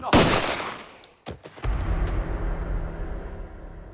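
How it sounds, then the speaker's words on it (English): A single loud gunshot fired at close range in a tense confrontation, a sharp blast followed by a brief decaying echo, then a low rumbling ambience with a fainter crack in the middle. "A shot rang out."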